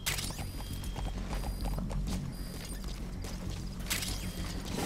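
Hooves of a galloping horse in the Metal Gear Solid V video game clatter steadily and rhythmically, with creaking tack and mechanical game sounds layered over a dense, continuous background.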